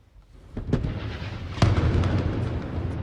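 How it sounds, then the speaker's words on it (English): Heavy explosions boom in the distance over northern Gaza, one after another, with a loud blast near the middle and a rumbling roar lingering between impacts. "As explosions continue to pound parts of northern Gaza"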